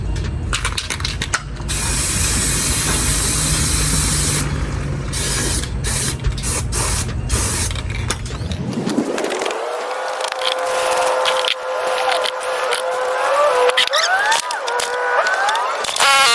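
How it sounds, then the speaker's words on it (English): Maxima chain cleaner sprays onto a dirt bike chain with a loud, steady hiss and bursts of ratcheting clicks. A mechanical whine then rises and holds at a higher pitch, with no talking. "We're gonna use this Maxima chain cleanup, so let's do that."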